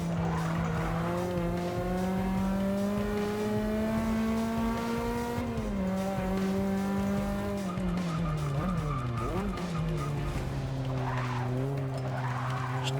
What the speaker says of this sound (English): Getting on the rumble strips is not helping my case here